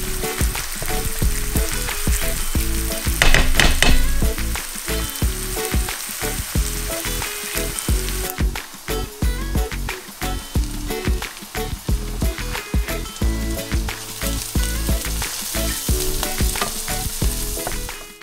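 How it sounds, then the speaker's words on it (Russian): Onion and carrot frying in a pan, a steady loud sizzle with frequent stirring scrapes and clicks throughout, no voices. "В первую очередь обжариваем лук, чтобы он успел покарамелизоваться"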